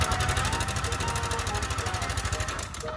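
A kulong-kulong motorcycle sidecar engine runs on and on with a fast rattling chug and buzzy mechanical clatter, captured at moderate volume with no voices.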